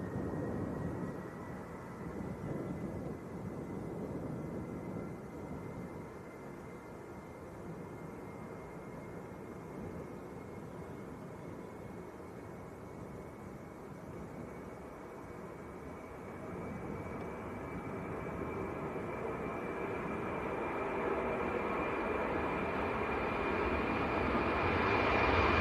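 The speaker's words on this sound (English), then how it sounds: "this is Ryanair to Krakow" Ryanair airliner takes off at Leeds Bradford Airport, its jet engines a broad sustained roar with a rising whine that swells louder toward the end as the aircraft accelerates away.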